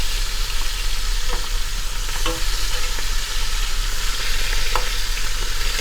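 Oxtail sears in a hot pan with a loud, steady sizzle and a few faint clicks of handling. No one talks.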